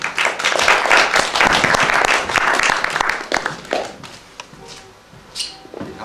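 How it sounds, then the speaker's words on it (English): Audience welcoming a speaker to the podium at a lecture, a full burst of clapping for several seconds that tapers into sparse, scattered claps and small hall sounds. "Please welcome him to the podium with a round of applause."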